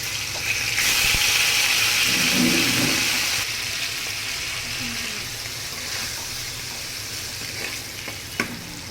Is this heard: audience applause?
no